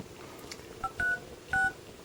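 Keypad tones from the phone dialer on an Acer Stream touchscreen handset, three short electronic beeps of differing lengths over a quiet background.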